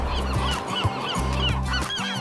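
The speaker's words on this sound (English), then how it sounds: "we came upon the largest colony of western gulls in the world" Western gulls call from a large colony on Anacapa Island in the Channel Islands off California, loud nasal honking cries repeating close and overlapping throughout.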